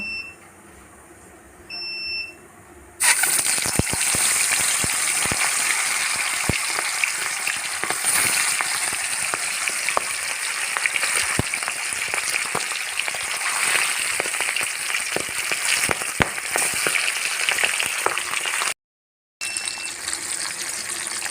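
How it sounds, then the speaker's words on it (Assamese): Boral fish frying in hot oil, a loud steady sizzle and crackle with frequent sharp pops and spits, starting abruptly after a few quiet seconds and continuing with a brief break near the end. "এতিয়া মাছখিনি ফ্ৰাই কৰি ল'ব লাগিব"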